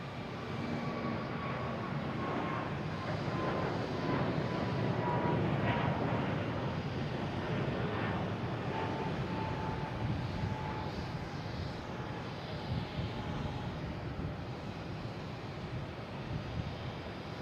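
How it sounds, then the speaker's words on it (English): An American Airlines A321neo taking off from Boston Logan bound for Charlotte, a sustained broad jet roar with a faint engine whine, steady and moderately distant, with no talk. "Here we have American Airlines taking off to Charlotte,"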